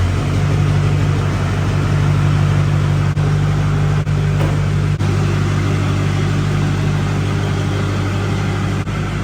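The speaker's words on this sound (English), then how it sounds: "this will be the last time that I start the Wifemax with this engine" A truck engine runs loud and steady at a low idle, with a deep continuous rumble throughout.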